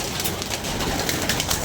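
Pigeons cooing close by, a soft continuous murmur of low throaty coos over a short stretch, with no voices.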